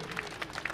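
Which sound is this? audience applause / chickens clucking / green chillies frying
audience applause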